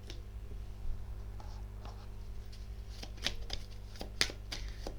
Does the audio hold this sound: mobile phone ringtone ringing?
no